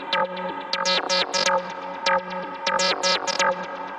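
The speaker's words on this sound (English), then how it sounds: "what that does is it plays it back at 2 different speeds and sounds like this." Time-stretched audio in Ableton plays back at two different speeds, giving a choppy, stuttering run of short pitched fragments with bursts of sound and brief gaps, all without talk.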